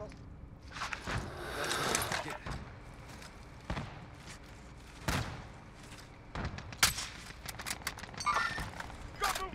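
Video game gunfire crackles in sharp, scattered bursts and single shots, some close and loud, others fainter, spread irregularly over footsteps and players talking.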